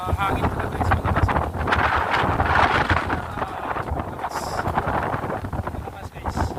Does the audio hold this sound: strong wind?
yes